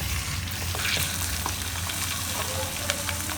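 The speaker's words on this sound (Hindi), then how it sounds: "चिकन हमारा फ्राई हो रहा है" Chicken pieces fry in hot oil for a Behari chicken qorma, giving a steady, dense, close sizzle that holds evenly throughout with only small crackles and no talking.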